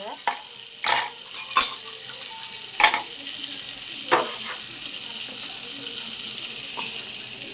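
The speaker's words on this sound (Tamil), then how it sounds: "சேர்த்துக்கிட்டு இதையும் இது கூட நல்லா வதக்கி விட்டுக்குங்க." Onion, tomato, garlic and ginger sauté in a pan for dal tadka with a low, steady sizzle. Several sharp scrapes and clacks of stirring stand out against the hiss.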